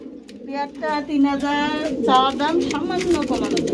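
Beauty pigeons cooing in a bird market, low soft coos running under close, continuous talk from people nearby.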